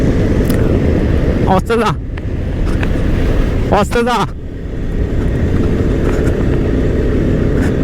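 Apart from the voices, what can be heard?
motorcycle (RS bike) engine being ridden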